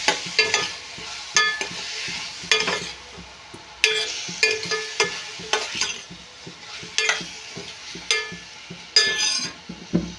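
Onions and green chillies fry in a pan with a steady sizzle, punctuated by repeated scraping and clinking stirs at an irregular rhythm throughout, close and fairly loud, with no voices.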